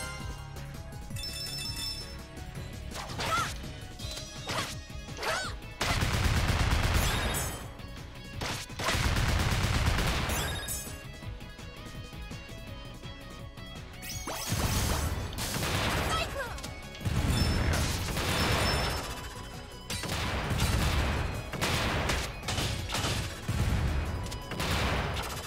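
Missiles explode against enemies in the video game Freedom Planet, a series of loud bursts and crashes layered over busy game music and chiming effects, continuing across the whole stretch.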